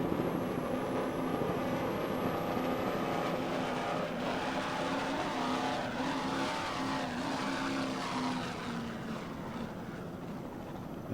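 A 40-foot Platinum offshore race boat with Stotler racing engines and Mercury No. 6 Speedmaster drives roars past in a world championship race, a loud, dense, sustained engine drone with no voices.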